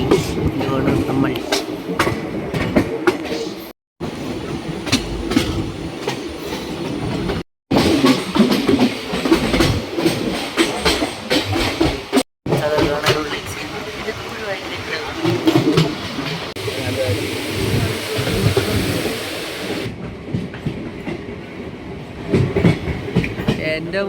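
A moving train on the rail route toward Dudhsagar rumbles and clatters steadily with rhythmic clickety-clack, loud and close from inside the carriage, while people talk over it and the sound cuts out briefly a few times.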